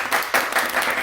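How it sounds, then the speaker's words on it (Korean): Applause from a church congregation giving thanks to God during a Korean Sunday service, a brief dense burst of many hands clapping together, fairly loud and close. "하나님께 감사의 박수 한번 올릴까요?"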